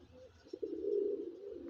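A female pigeon gives a low, soft coo, one drawn-out throaty call heard up close with quiet surroundings.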